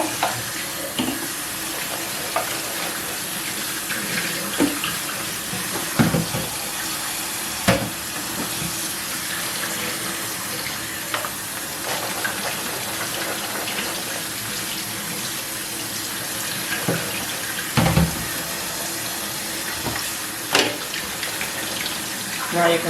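Tap water running while dried garbanzo beans (chickpeas) are rinsed in a kitchen sink, a continuous splashing hiss with occasional knocks and clatters on top.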